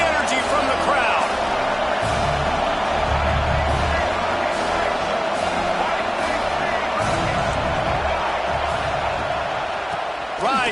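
Dense, continuous roar of a football stadium crowd, steady and loud throughout, with a broadcast announcer talking over it.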